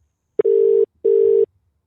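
A telephone ringback tone on an outgoing call sounds as two loud, steady electronic tones, each about half a second long, separated by a short pause.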